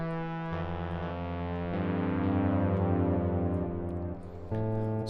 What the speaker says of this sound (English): adds a little bit of distortion and changes the phase